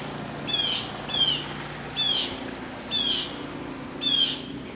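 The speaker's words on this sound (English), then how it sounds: "Even the birds are happy." Birds chirping outdoors at a lakeside inn in Mount Dora, with five short, bright call bursts repeating at a steady interval over a constant low background hum.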